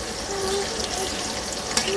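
Hilsa fish fries in a pan with a steady, even sizzle, close and continuous, with a brief clink near the end.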